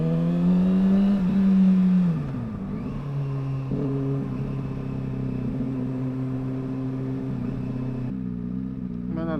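A motorcycle engine hums steadily while riding through traffic, revving briefly before settling into an even, close drone with shifting tone.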